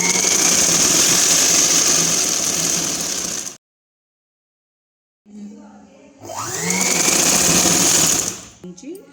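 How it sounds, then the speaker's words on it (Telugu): Sewing machine stitching the seam of an umbrella long frock, running in two loud continuous bursts separated by a silent pause, with a brief quieter patch between and a little speech underneath. "ఇంకో సైడ్ కూడా ఇలాగే ఇంకో కుట్టు వేసుకోవాలి"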